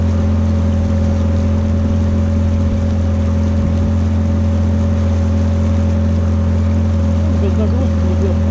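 Tohatsu 9.8 outboard motor on a small boat running at half throttle, a steady loud droning hum with strong low tones throughout, water noise mixed in and no break in the engine note.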